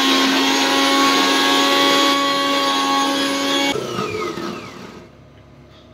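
An electric mixer grinder whirs loudly and steadily, grinding spices into a paste for a duck curry at a guest house, then cuts out and the whine winds down into quiet.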